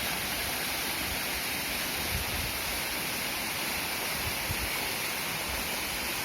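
A small mountain waterfall in a forest on a Himalayan trek streams down from a high slope, a steady, unbroken rush of falling water with no pauses and no voices.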